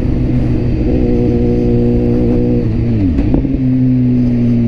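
A BMW S1000RR motorcycle engine drones at steady revs, then the pitch drops sharply through a downshift with a few sharp backfire pops before settling into a steady hum again.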